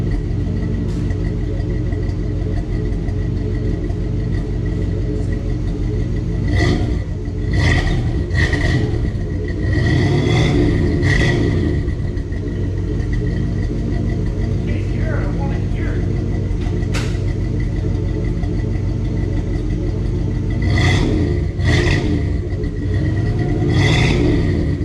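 A car engine rumbles through a homemade exhaust, idling low and steady between several sharp revving bursts that swell and fall back, with a person talking over parts of it.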